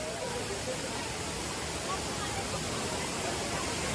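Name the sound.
Savdav waterfall rushing water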